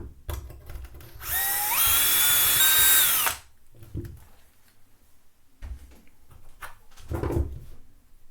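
A short burst of a power drill spinning up for about two seconds, surrounded by quiet handling clunks and knocks.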